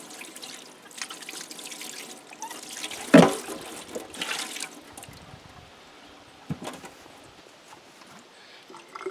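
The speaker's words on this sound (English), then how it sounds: "I just want to rinse this container out a little." Filter container rinsed out with water, trickling and sloshing close up with one sharp thump and splash midway and lighter splashes later.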